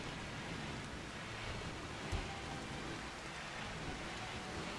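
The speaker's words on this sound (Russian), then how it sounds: "у нас какой-то сезон дождей тут начался" Rain in the video game RimWorld, a soft, steady hiss of falling rain, faint and even throughout, with a single dull thump partway through and no speech.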